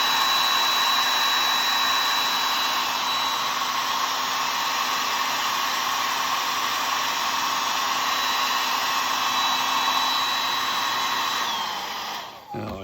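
Dryer blowing steadily on a freshly painted wooden carving of a lazuli bunting, a loud constant whoosh held for about twelve seconds before cutting off abruptly.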